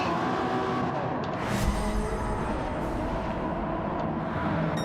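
Race car from a sim racing league event sliding off the track, continuous engine roar with tyre scrub and skid noise, steady and fairly loud throughout with no speech.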